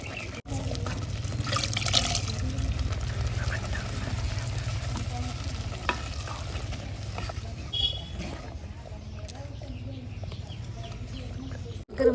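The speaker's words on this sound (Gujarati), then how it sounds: "જાડી બહુ લાગે તો આપણે શેષ પાણી ઉમેરી દઈશું એમાં।" Water is poured and stirred into simmering Gujarati panchratna dal, a steady liquid sloshing and bubbling texture running throughout with faint background sounds and a sharp knock at the end.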